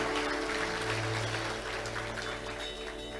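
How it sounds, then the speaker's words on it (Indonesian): A church congregation gives steady applause during a sermon, a faint, continuous wash of clapping sustained throughout without any clear break. "Tepuk tangan buat Tuhan."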